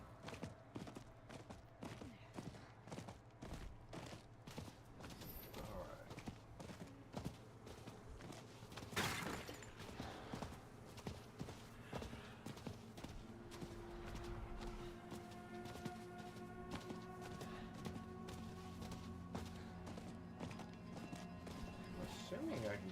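A horse mount gallops in Diablo 4, its steady, rapid hoofbeats running throughout over continuous game music and ambient effects.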